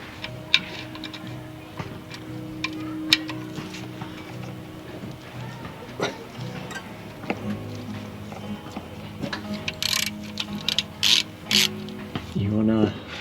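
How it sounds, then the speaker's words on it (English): A ratchet with a TX45 socket undoes the sump plug on a Vauxhall Mokka 1.4 turbo, making repeated clicking pawl bursts and metallic ticks, with workshop clatter and occasional sharp knocks around them. "Let's crack open that sump plug."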